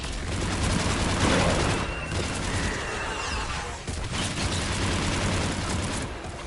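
Rapid, continuous gunfire from a mech's mounted gun in the Mass Effect video game, loud and dense with booming bursts, heard without speech.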